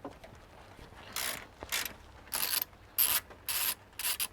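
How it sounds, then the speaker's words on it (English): Ratchet undoing bracket bolts on a Mitsubishi Triton: several short bursts of rapid pawl clicking separated by brief pauses, close and clear with no talk. "So we're removing these bolts and just sitting them aside for now."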